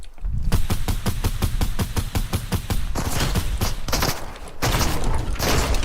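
Fortnite gunfire: rapid automatic bursts, steady and close, give way to denser, rougher volleys after a brief pause, loud and continuous, with no talking.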